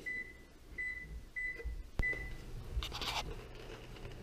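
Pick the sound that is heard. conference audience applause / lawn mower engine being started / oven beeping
oven beeping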